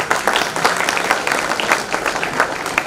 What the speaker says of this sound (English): Let us give a huge round of applause to our little ones.